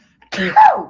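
A single close, explosive sneeze, short and forceful, with a sharp burst of breath and a voiced tail.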